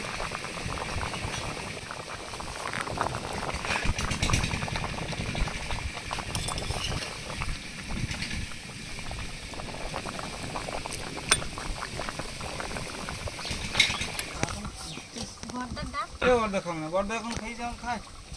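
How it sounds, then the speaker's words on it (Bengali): A pot of fish curry with taro and bata fish bubbles at a steady boil. The simmering is moderately loud and close, with occasional clinks near the end and a voice faintly in the background. "মাছ দিয়ে 3 মিনিট ফুটিয়ে নিয়েছি, এবার ভাজা মশলা দিয়ে আর 2 মিনিট ফুটিয়ে নামিয়ে নেব।"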